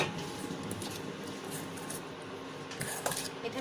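Chicken being mixed in a bowl with vinegar, salt, chilli, garlic and onion, giving a steady run of wet clinks and scrapes against the bowl, close and continuous, with a few sharper knocks near the end.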